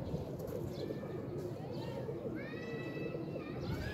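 Pigeons coo softly in a few short rising calls over a rumbling, busy background, with faint rustling throughout.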